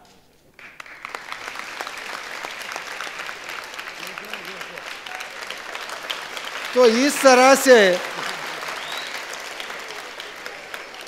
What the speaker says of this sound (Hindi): ऐसी ताली बजाते रहेंगे तो सब खुशहाल रहेंगे